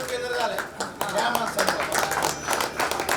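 At an employees' gathering of the Bhiwandi bus depot, an audience claps for a named staff member, a close, uneven burst of hand claps mixed with voices and chatter.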